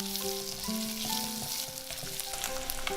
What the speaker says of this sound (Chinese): 接着把萝卜干跟姜蒜放进来